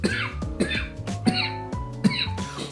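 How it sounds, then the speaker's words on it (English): Repeated coughing, four sharp coughing fits spaced evenly apart, close and fairly loud, with throaty voiced tails after each burst. "I might have to edit out that coughing"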